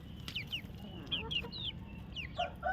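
Chickens cluck and chirp in short, repeated calls over a low, steady background rumble, moderately close.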